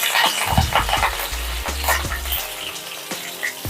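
Mustard seeds, cumin and curry leaves fry in hot oil for a tempering, giving a loud, continuous close sizzle with crackles and a few spoon scrapes, and no voices.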